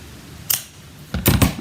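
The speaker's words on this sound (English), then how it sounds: "And then I'm going to use the large scissors again, up on there and up on there." Large scissors snipping through paper in a papercraft card-making session, one crisp cut followed by a quick double snip, close and clear with no talking.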